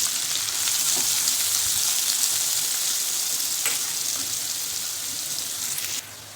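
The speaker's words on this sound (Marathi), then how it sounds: "जिरं तडतडलेले त्यामध्ये घालायचं कांदा" Sliced onion sizzles in hot oil after cumin in a home kitchen pan: a loud, continuous close-up frying hiss with a few faint stirring scrapes, easing slightly near the end.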